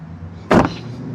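A Tesla Model Y Launch Edition door closes with a single solid, muffled thud, close and loud against a quiet background.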